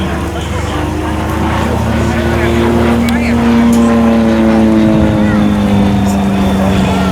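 Light aircraft powered by an 85 horsepower Jabiru engine at an air festival, a steady droning engine hum with a slowly falling pitch as it passes, loud and continuous, with wind and crowd noise beneath.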